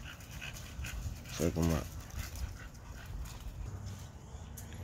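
Two female American exotic bully dogs pant and whimper close by on chains, with a short burst of whining yelps midway, while someone talks over them.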